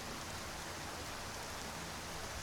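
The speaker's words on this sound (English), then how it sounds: "I think the rain was coming down there too." Steady rain falls in the fantasy video game Skyrim, a dense, even hiss of drops pouring without pause, close and continuous with no other sounds.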